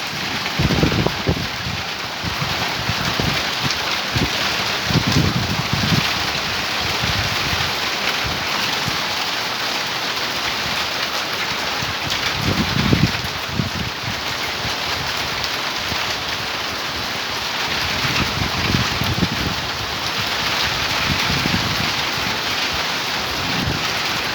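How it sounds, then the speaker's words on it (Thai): Heavy rain pouring down with gusty wind buffeting the microphone, a dense continuous roar with surges of low rumble. "ลมทั้งฝนทั้งฟ้านะครับ"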